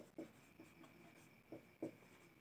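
Marker or chalk strokes on a classroom board during a dice-reasoning lesson, coming as short irregular scratches and taps, quiet and close, with no talk.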